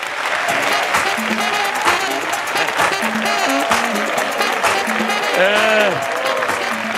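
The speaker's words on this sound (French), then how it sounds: "Beaucoup d'applaudissements pour Edoudoua Nonglacé." Loud applause from an audience fills the room, steady clapping with cheers and a voice speaking over it.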